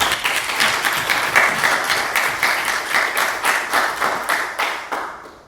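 An audience at a talk on preventing burnout claps in a loud, close ovation with distinct pulsing claps, holding steady before fading out at the end.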